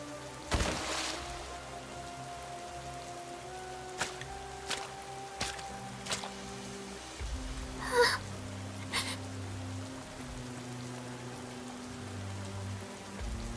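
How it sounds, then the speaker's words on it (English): Rain falls in the video game Goddess of Victory: Nikke, a soft, steady patter on surfaces throughout, broken by a few sharp taps and a brief scuffing burst near the middle; no one speaks. "It's raining. Now I'm all wet."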